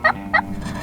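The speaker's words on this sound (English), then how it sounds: "As the afternoon goes on, we see several gobblers across the big field behind us." Wild turkey gobblers in a big Texas field give two quick, loud gobbles in close succession, followed by a quieter outdoor background.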